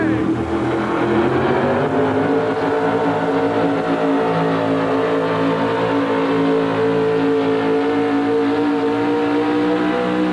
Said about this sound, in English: And here comes the Nationwise Kendall Auto Parts truck.